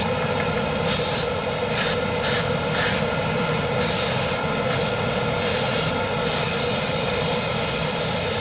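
An airbrush sprays a flat coat at high air pressure onto the tyres of a 1/25 Moebius Batmobile Tumbler model, a steady close hiss broken by brief on-off pauses in the airflow, with no talking.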